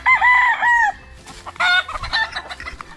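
A rooster crows loudly nearby on a backyard farm, followed by hens clucking and more fowl calls in the background.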